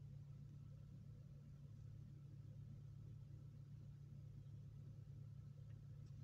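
A first-generation Maruti Suzuki Ertiga 1.4 VVT petrol engine idles with a low, steady hum, quiet and even, muffled as heard from inside the closed cabin, with no talking.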